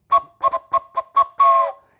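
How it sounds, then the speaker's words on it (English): A train whistle sound effect played during a Kanoodle puzzle game, five short tooting blasts in quick rhythm followed by one longer held toot, clear and alone. "This gets a train whistle."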